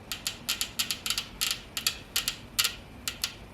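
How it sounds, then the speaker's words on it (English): A Toyota Prius C 1NZ fuel injector, pulsed off the bench by a 12-volt battery, gives quick, close, sharp clicks in an irregular run of about a dozen pulses, with no talk. "You can see the injector is working when you touch in the negative side"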